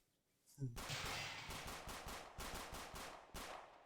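Rapid automatic gunfire in the survival video game 7 Days to Die: a dense burst of loud, close shots fired in quick succession for about three seconds, with a faint voice at the very start.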